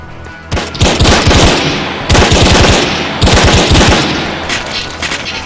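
Three loud, close bursts of rapid automatic gunfire in the video game ARMA 3, each with a string of sharp shots and a booming tail, evenly spaced.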